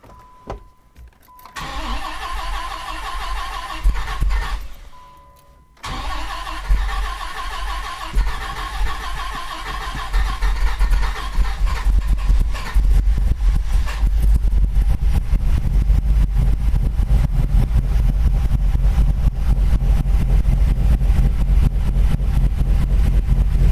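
A 1998 Dodge Viper with a fresh battery and newly installed dry sump cranks in short bursts, then catches and settles into a loud, steady, rough idle close by that continues without a break.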